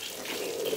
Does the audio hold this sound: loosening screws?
no